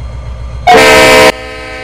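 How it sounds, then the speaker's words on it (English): Train horn in a video game, one loud sustained blast lasting about half a second that stands out over a quiet engine hum. "I'ma pull the horn."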